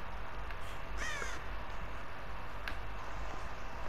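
A crow caws in the horror video game Dead by Daylight, a couple of harsh, rasping calls standing out over a low ambient drone of the game's environment.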